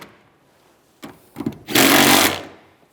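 A power tool tightens the rear seat bolts on a 2007-2013 Chevy Silverado, starting with a couple of short bursts and then a louder, sustained whir of about a second that fades out, close by with no talking.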